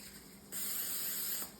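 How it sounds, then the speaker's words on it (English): Cooking spray hissing from an aerosol can onto a frittata pan, one steady close spray lasting about a second. "Going to spray this with a little bit of cooking spray."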